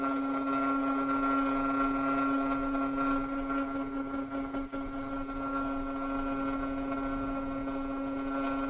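A hair dryer blows over wet watercolour paint, a steady whirring motor hum with a strong tonal whine and airy rush, constant and close with no speech.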